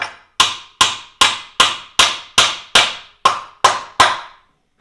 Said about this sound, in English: You always drive your outside wedging first, and then your inner wedge.